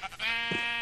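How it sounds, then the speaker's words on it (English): A single sheep bleat from Minecraft, a short nasal wavering cry that follows a couple of brief soft sounds and holds steady to the end, close and clear. "the first animal that we see are sheep"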